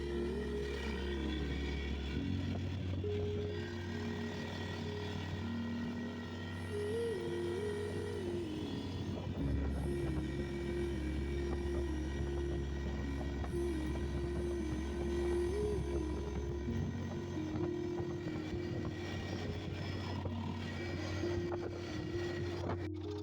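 ATV engine droning steadily on a long 120 km cold-weather ride, a continuous low motor hum with shifting pitch as speed changes, fairly distant and without talk.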